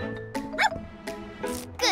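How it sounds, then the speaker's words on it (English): A cartoon dog barks in short, bright yips, four or five quick bursts spread across two seconds, with a light musical bed underneath. "morph into a sniffer dog!"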